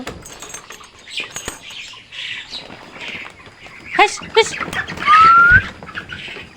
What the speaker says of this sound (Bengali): সকাল হইল আর শালিক পাখির অত্যাচার শুরু হইল